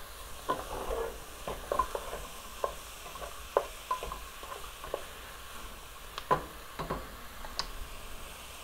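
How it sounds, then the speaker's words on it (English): Ground beef sautéing in a pan for tater tot hotdish, a low sizzle broken by scattered ticks and scrapes of a utensil stirring the meat, with no voices. "You're sauteing it, getting the redness out of it"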